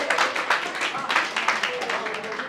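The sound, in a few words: audience clapping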